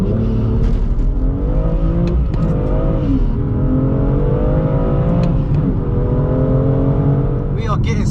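A modified 450bhp BMW M2 accelerates hard from 0 to 60, its engine note climbing loud and close through several gear changes in a sustained roar, with a voice speaking over it.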